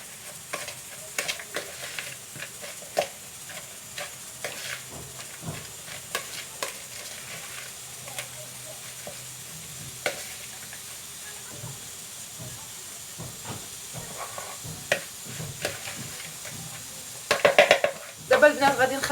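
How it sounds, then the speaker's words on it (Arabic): Food being stirred and mixed with a spoon in a sizzling pan while preparing Moroccan-style roasted chicken, steady faint frying hiss with soft scraping stirs throughout and a few louder clinks near the end. "صافي ونخلطها مزيان"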